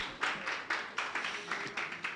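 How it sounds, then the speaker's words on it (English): A small audience at a round table discussion claps for a table's presentation, with about eight quick, uneven bursts of applause close by. "Please, can we clap for them?"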